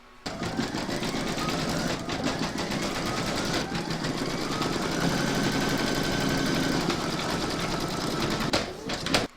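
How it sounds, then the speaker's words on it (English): A machine-embroidery sewing machine stitches the eyes and ears of a koala cuddly toy in white thread, a fast, steady mechanical whir and rattle running close and continuous with brief pauses. "Load your white thread into your machine and then stitch round number 10, and that's going to do the whites of the eyes and the ears"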